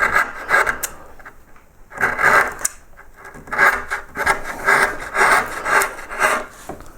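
Relief carving of a yellow flag iris in a pierced wooden panel, a gouge shaving along one side in bursts of close, scraping cuts separated by brief pauses, with no talking.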